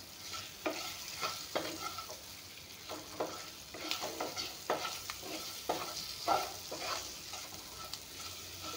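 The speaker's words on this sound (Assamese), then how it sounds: "অলপমান ভাজি ল'ম।" Cumin powder frying in a pan for a fish curry, a soft sizzle under repeated scraping strokes of a spoon stirring at an uneven rhythm, close and fairly quiet.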